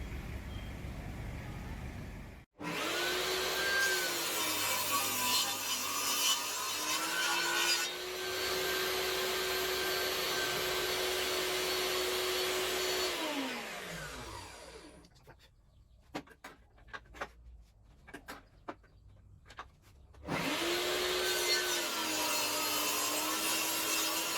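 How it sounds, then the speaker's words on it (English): A big disc sander works a wooden chair leg, a loud steady motor whine with grinding and rubbing as the wood is pressed in, spinning down into scattered knocks and handling noises before starting up again. "I think probably I'll round it because I've got that big disc sander."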